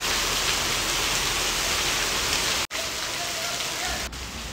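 Heavy monsoon rain pours down on a village in a dense, unbroken hiss, loud and close, with no voices over it.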